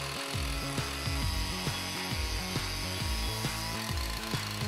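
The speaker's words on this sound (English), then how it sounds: "Cutting through a common railway sleeper takes under a minute, and unlike a chainsaw, there are no issues with nails or screws damaging the blade." A Terrasaur carbide cluster blade on a power cutter grinds through a wooden railway sleeper, a loud continuous rasping whine with a rhythmic pulsing pattern throughout and no voices.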